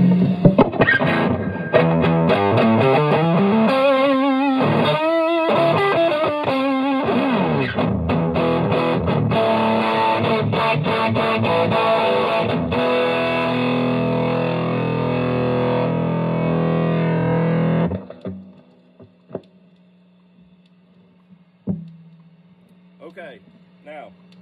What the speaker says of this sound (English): So tube screamer into clean boost into cranked deluxe